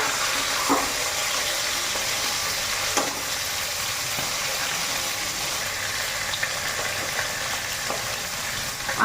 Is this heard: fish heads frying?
yes